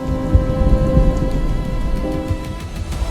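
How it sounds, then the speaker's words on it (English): Rain pours steadily over a jungle after a storm, a dense, loud, continuous hiss with low rumbling underneath and no voices. "Jungle breathed again under the first rain."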